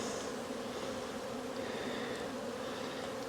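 A steady, low buzz of honey bees fills the air around an opened cell builder hive with brood frames, a dense, even drone close by without talk.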